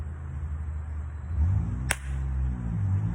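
A stage combat face slap lands as a single sharp crack over steady room noise, brief and close, with no talking around it.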